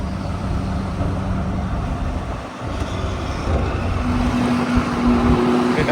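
A Ford F250 pickup truck drives past, its engine giving a steady, loud rumble throughout that swells slightly toward the end.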